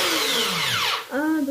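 Kitchen blender mixing carrots, onions and aubergine: a loud whining motor that rises and falls in pitch as it strains through the vegetables, with a brief dip before spinning up again.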